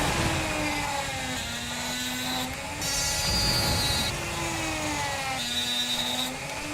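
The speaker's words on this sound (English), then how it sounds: "the easiest way is to cut both edge pieces in half and then glue them together" A small power tool whines as it cuts plastic Rubik's cube edge pieces in half, its pitch sagging and rising as it bites in, steady and close, with no talking.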